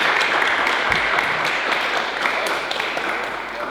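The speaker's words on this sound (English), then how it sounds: "I hope you join me in a round of applause for him" Applause from an audience honouring gymnast Rhys McClenaghan, a steady, dense wash of clapping hands that carries evenly through the whole stretch and eases slightly toward the end.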